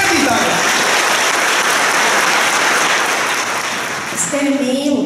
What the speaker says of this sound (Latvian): Aplausi folkfestivāla dalībniekiem un skatītājiem!